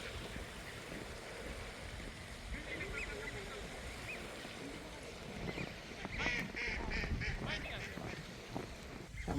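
A duck and ducklings quack at a lake in Mammoth Lakes, California, in rainy weather: faint, scattered calls over steady background noise, growing more frequent toward the end, with a person talking nearby.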